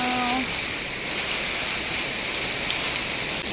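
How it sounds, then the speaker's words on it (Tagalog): Rain pours steadily outdoors near a farm with goats, vegetable plots and rice, a constant close hiss of drops on surfaces, with a brief faint tone at the start. "May ulan na."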